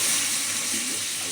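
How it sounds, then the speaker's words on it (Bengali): Water added to a pan of spice masala frying with ridge gourd and potato gives a steady, even sizzle and hiss, close and fairly quiet, with no voices. "এবার আমি জল দিয়ে দেবো।"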